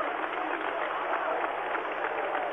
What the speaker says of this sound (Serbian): Kako aplaudiraju, pa poslušajte.